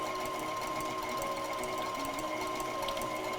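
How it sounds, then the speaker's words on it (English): An electric mixer whips egg whites in a bowl with a steady, fairly quiet whirring motor hum that holds unchanged throughout, with no voices. "something about whipping egg whites is that it's very important to have a very clean bowl"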